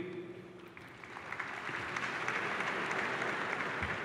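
Applause at a Georgia Tech commencement ceremony, starting quietly and swelling after a second into a steady wash of clapping from a large, somewhat distant crowd.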